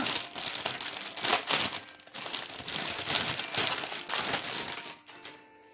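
A plastic package from a Shein order being opened, with loud, continuous close crinkling and tearing of plastic for several seconds before it stops abruptly.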